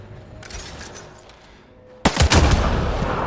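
Gunfire from the sci-fi shooter Mass Effect: Andromeda: after a quiet stretch, a loud, close burst of rapid shots erupts and keeps rattling to the end.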